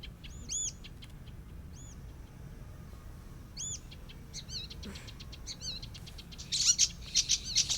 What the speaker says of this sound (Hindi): आसमान में इस चिड़िया को देखो